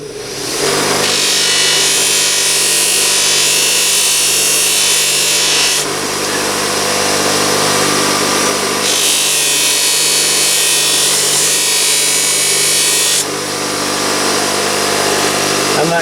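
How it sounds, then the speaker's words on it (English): A bench buffing wheel polishes the sharpened edge of an axe, a steady loud whirring grind with two long stretches where the hiss brightens as the blade is pressed against the wheel, no talking. "I use my buffing wheel just to polish the edges up here, always holding the axe down."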